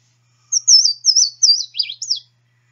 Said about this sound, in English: our Louisiana water thrush has a rich song starting with several clear introductory notes